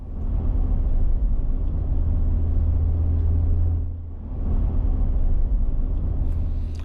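A four-wheel drive vehicle driving near Wentworth Falls in the Blue Mountains, a steady low engine and road rumble from inside the cab with a brief dip in the middle before it resumes.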